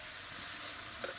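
Spices fry in hot oil with turmeric and salt for a Bengali meat curry, a steady, dense sizzle with a single short clink of a utensil near the end, no talk.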